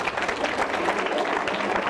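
A school audience claps loudly for a student's correct answer at a quiz talk show, a dense burst of applause filling the whole short moment.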